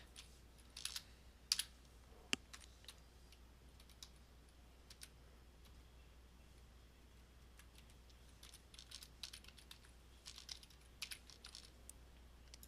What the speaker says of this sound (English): now I'm going to type in the VPN Azure host name.